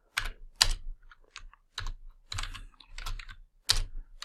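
Fast bursts of typing on a computer keyboard, close and clear, with short pauses between clusters of clicking keystrokes and no talk.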